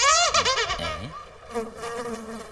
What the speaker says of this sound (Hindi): कैसे मकड़ी के जाल के अंदर फंसी हुई है बेचारी मक्खी